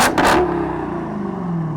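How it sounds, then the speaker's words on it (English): A 2019 Dodge Challenger SRT Hellcat Redeye Widebody gives a short, loud, sharp rev close up, then settles into a lower idle rumble that fades away. "Rev the engine for me."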